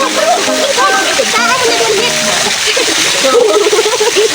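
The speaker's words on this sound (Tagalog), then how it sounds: "walang sawang tampisaw sa tubig" Children splash and slosh in water, continuous close splashing with faint kids' voices and laughter mixed in throughout.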